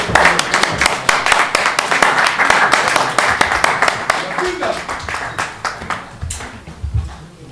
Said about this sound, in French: On va tous accueillir sur un tonnerre d'applaudissements Monsieur Werason de Rwanda, s'il vous plaît.